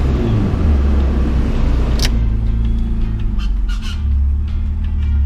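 A Mazda MX3 with a K8 V6 engine idles with the air conditioning switched on, giving a loud, steady close-up rumble with a brief sharp click about two seconds in and no talking.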